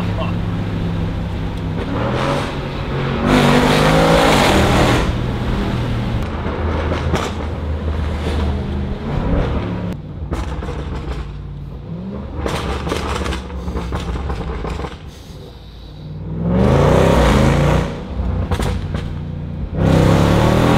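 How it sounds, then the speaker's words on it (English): Heard with the windows down, a Range Rover SVR's supercharged 5-liter V8 with Valvetronic titanium exhaust and resonators rumbles through repeated loud revs and accelerating pulls, easing between bursts, with occasional crackles. "just listen to how good the 5-liter supercharged V8 sounds with the Valvetronic"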